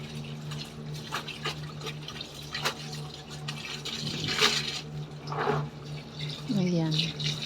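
Tap water runs steadily into a basin to soak laundry, a continuous splashing rush with a short rising fill tone near the end. Someone speaks briefly over it.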